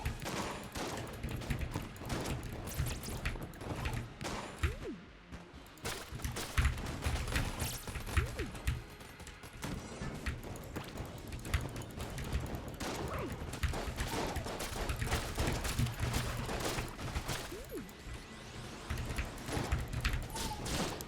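Rapid, continuous gunfire from the video game Enter the Gungeon, with dense bursts of shotgun blasts, thumps and crashes layered over game music throughout, loud and busy with no pauses.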